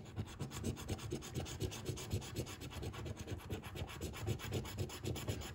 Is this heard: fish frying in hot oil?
no